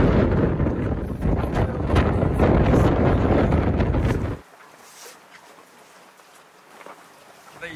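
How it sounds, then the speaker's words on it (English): Gusty wind on a boat dock, roaring hard against the microphone for about four seconds and then cutting off to a faint, quiet background. "However, it's gusty out there. Very windy."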